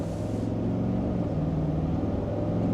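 A 2025 Cadillac Escalade Sport SUV accelerating in normal mode, heard from inside the cabin as a steady, low engine rumble with rising tonal drone, continuous and fairly loud with no talking.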